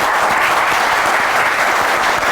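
A studio audience at a talk show breaks into loud, sustained applause, a thick continuous roar of many hands clapping close by that holds evenly from start to finish with no talk on top.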